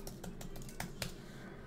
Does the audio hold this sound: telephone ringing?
no